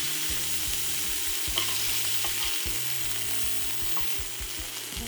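Beef liver searing in a pan gives a steady, crackling sizzle with scattered pops, underlaid by a low electrical hum, with no talking.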